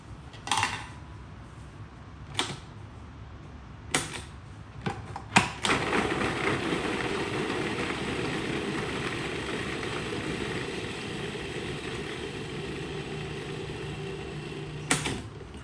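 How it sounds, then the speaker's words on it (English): A few sharp clicks and knocks lead into a multi-speed food processor running on low, mincing garlic and salt with a steady, even whirring drone that holds for about ten seconds. "If you have a multi-speed food processor, do this part on low speed."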